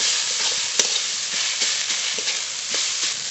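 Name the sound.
radish greens frying with fish in pan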